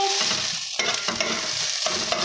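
Egg frying in a pan gives a steady hiss and sizzle, close and fairly loud, broken by a few scraping stirs, with no talking.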